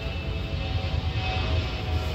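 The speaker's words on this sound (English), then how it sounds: "Sorry about that, plane just going over." A fixed-wing airplane passes overhead outdoors during a driveway repair of a 2010 Kia Grand Carnival, a steady loud engine roar filling the whole stretch with no speech.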